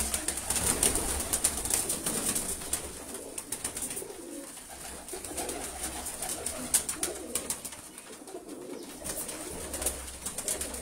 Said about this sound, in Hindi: ये चैंपियन कबूतर है माशाल्लाह।